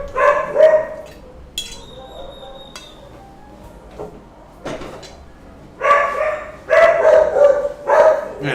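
Several loud, nearby dog barks come in clusters, separated by quieter gaps with faint clinks and household noise.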